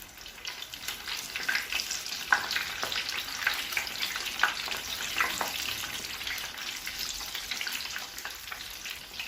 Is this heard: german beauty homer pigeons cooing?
no